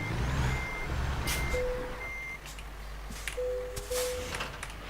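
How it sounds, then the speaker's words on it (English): A heavy truck in American Truck Simulator backs up toward a trailer, its reversing alarm beeping in a steady repeating pattern over a low diesel rumble with occasional air hisses, no voices. "Now let's reverse back into the trailer."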